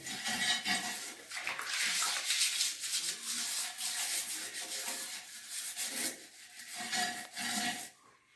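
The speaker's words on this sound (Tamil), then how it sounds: "லைசால் விட்டுண்டு இந்த ப்ரஷ்ஷால் நல்லா தேய்ச்சி விட்டுட்டுன்னா க்ளீன் ஆகிடும்" A brush scrubbing a toilet bowl with Lysol, heard as steady, close, rasping back-and-forth strokes that continue without a break.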